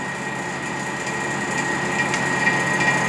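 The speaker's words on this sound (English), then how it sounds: "I'm just going to let it pull that vacuum for at least an hour" A vacuum pump pulls a vacuum on a Ford F150 A/C system, running as a steady high-pitched mechanical whine with a constant hum that holds level and close throughout.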